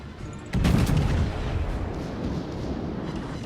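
A broadside of forward naval guns fires in World of Warships, set against the battleship Bismarck: a heavy booming blast hits at once and rolls into a long, loud rumbling tail.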